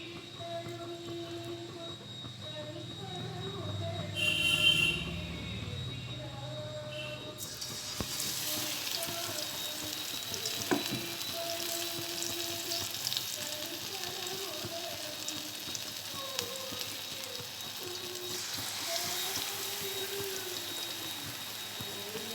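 Batter-coated sukhiyan balls of green gram are dropped into hot oil, bringing a quiet steady hiss that swells into a broad, continuous sizzle and holds for a long stretch.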